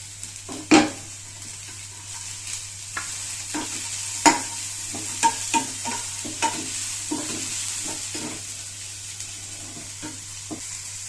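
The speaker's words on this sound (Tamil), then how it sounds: "பூண்டு போட்டு ஒரு வதக்க வதக்கிட்டு அப்புறம் பீன்ஸு சேர்த்துடலாம்" Garlic, with onions, is sautéed in a pan before beans are added, a low steady sizzle punctuated by scraping stirs and clinks of a spoon against the pan.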